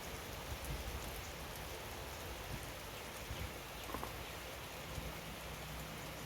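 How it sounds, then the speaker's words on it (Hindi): Steady rain falls outside in a dense, even hiss of drops on surfaces, continuous throughout with no voices. "बारिश का नज़ारा।"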